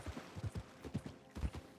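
Horse hooves clip-clopping in Red Dead Redemption 2, a quiet steady run of soft rhythmic thuds at a slow trot, close by.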